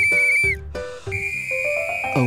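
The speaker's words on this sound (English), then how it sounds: "A whistle." A toy whistle given as a birthday gift in a children's cartoon plays a series of loud, close, shrill tones, some held and some short, with the pitch stepping up and down.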